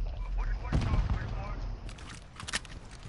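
Gunfire in the Modern Warfare video game, with a burst of rapid shots followed by a few sharper reports, fairly loud against background game noise.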